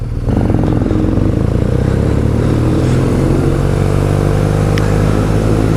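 A BMW R nineT motorcycle engine drones steadily and loudly throughout as the bike is ridden on country roads in the Cotswolds, with a constant low rumble and a faint clatter on top.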